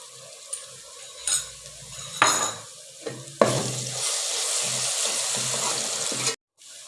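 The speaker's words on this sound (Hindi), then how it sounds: "अब इसमें ऐड करेंगे अदरक और लहसुन का पेस्ट। प्याज लाइट ब्राउन हो गया" Onions sautéing with ginger-garlic paste in a pan for a keema dish: steady close sizzling and frying with several scraping stirs, continuing loudly before cutting off abruptly near the end.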